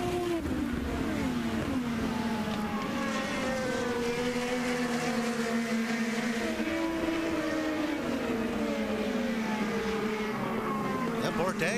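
IndyCar race cars scream around the Alabama Grand Prix circuit, their high engine notes rising and falling as several cars pass in sequence under continuous commentary.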